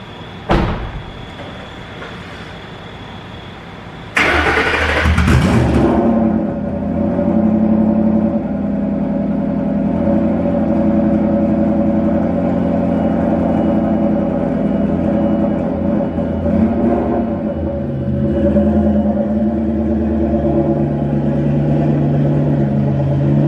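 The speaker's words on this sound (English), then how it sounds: "let's get my brother's car backed up" A car, a turbocharged Cobra, starts up with a sudden burst and then runs at a steady low engine drone while it is backed up, with a few thuds and clunks before the start.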